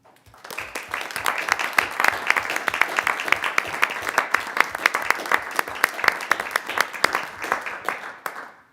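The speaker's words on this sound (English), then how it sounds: "I'd like us to just give him a round of applause and thank him for his service." An audience at a city council regular session gives a round of applause, rising quickly into steady, crisp clapping from a modest crowd, then thinning out near the end.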